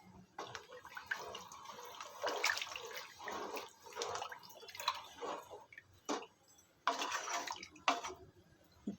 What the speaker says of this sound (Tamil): இந்த தண்ணியை சேர்த்துக்கலாம்